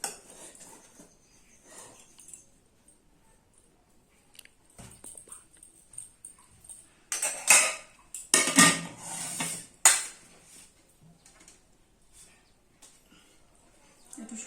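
Rice and side dishes are served onto plates for a Sunday lunch, starting quiet and building into a cluster of close, sharp clinks and clatters of dishes and utensils, then settling to softer handling.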